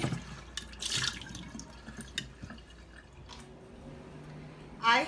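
Kiwis are rinsed under running water at a sink, with a steady close trickle, drips and splashes, and a brief louder gush near the end.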